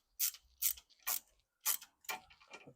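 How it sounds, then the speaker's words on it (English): A ratcheting wrench works a heat shield bolt on a 1999 Mercedes-Benz C43 AMG with a 4.3L V8, giving five or six quiet, close bursts of rapid clicking separated by short pauses. "I'm just gonna use a ratcheting wrench to take that one out."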